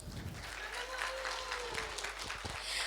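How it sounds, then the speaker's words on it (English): An audience at an education forum applauds in a dense, continuous wash of many hands clapping, fairly faint and distant, with some low room rumble. "Applause, please."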